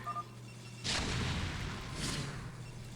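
Zerg Guardians bombard a Terran base in StarCraft, heavy booming impacts bursting in, then rolling into a continuous rumbling wash of explosions that stays loud throughout.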